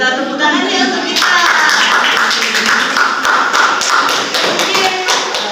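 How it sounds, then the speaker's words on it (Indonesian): A classroom of students breaks into loud, dense applause after an English reading and writing lesson. Quick, sustained clapping with sharp thumps runs steadily for several seconds close by. "Kita tepuk tangannya untuk kita"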